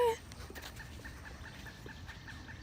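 Birds chattering to each other outdoors, a quick call at the start, then soft scattered chirps and clucks at a distance over steady outdoor background noise.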